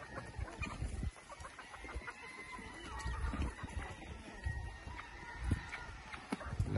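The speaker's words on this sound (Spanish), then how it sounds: "Las gallinas siempre están aquí porque se vuelan" Hens clucking at a moderate distance, irregular soft calls scattered over steady farmyard background noise.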